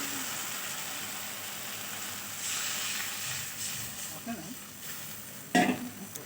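Water splashes into a pan of frying fish curry masala for macher jhol, raising a steady loud hiss and sizzle, with a sharp splashing burst near the end.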